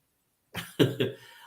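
Three short coughs in quick succession from a nearby person, after a moment of silence.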